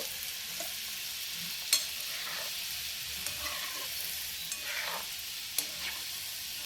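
Modaks frying in hot oil give a steady, close sizzle and bubbling hiss, with occasional light clinks of a utensil against the pan and no talking.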